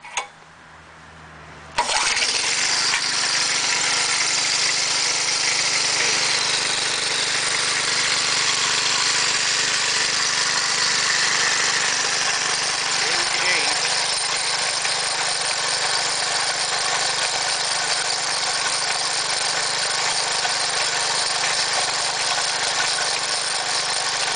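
Gasoline engine on a wheeled air compressor starts after a brief quiet moment, then runs loud and steady with a continuous rattly drone for the rest of the clip, no talking.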